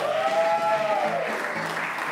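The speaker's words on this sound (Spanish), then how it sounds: "Un aplauso para el profesor de comedia" A crowd applauds steadily, a dense wash of clapping that holds fairly loud for a couple of seconds, with a brief tonal sweep near the start.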